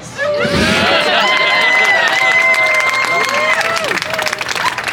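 Audience applause and cheering at a live juggling show, loud and sustained for the whole stretch, with raised voices and whoops mixed into the clapping crowd.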